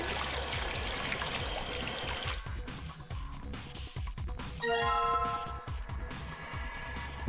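Water pours and trickles in the puzzle game Zero Escape: Virtue's Last Reward as a container is filled with pH 4 water, a steady stream over game music, followed by a few bright chime-like tones.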